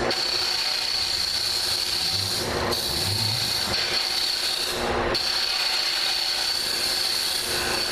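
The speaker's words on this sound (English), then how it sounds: "I'm actually running the bottom cutter into the bottom" A boring bar's bottom cutter hollows out a wood vessel, giving a steady, loud broadband hiss and rasp with a constant high whine, briefly dipping twice before resuming without pause.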